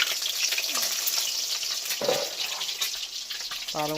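Steady close sizzle of frying for egg curry (ডিমের তরকারি) in a home kitchen, with occasional stirring scrapes throughout and a brief clatter near the end.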